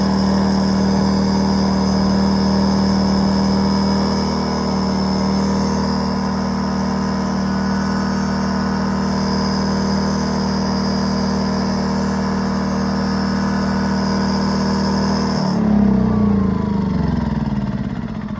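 A Predator 2000 generator engine runs with a loud, steady, close drone and a constant hum, then its tone shifts and roughens near the end.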